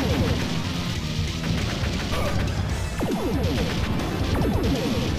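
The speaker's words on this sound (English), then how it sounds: "I love this laser sound." Dense, continuous G.I. Joe arcade game action with laser zaps, crashes and explosion-like bursts layered over a loud music and effects bed, with no pause throughout.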